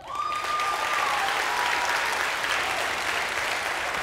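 A large church audience at a Christmas service breaks into loud, dense applause that holds steady throughout, with a faint tone at the start and no talking.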